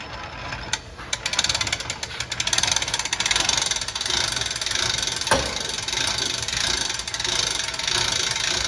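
The roof of a 2016 Forest River Clipper 125 ST pop-up camper is cranked up by hand, giving a continuous close mechanical clicking and ratcheting with a sharp clunk partway through, steady throughout with no voices.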